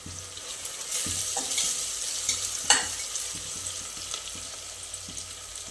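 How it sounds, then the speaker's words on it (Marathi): Grated ginger and chopped garlic sizzle and fry steadily in a pan while a spoon scrapes and stirs with a few sharp clinks, close and moderately loud, with no talking. "बारीक कट करून घेतलं लसूण आता हे छान असं परतून घ्यायचं आपल्याला"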